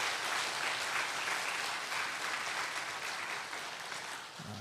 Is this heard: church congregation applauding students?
yes